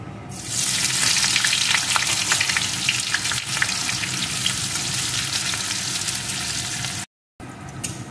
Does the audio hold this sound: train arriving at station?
no